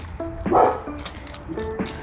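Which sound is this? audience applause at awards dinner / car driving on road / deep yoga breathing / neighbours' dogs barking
neighbours' dogs barking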